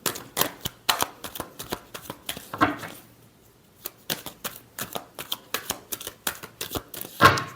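Tarot cards being shuffled by hand, a quick run of crisp riffling snaps and flicks that pause briefly midway, then resume with steady papery bursts, close and fairly quiet with no talk.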